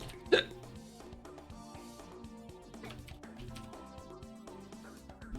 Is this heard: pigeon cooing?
no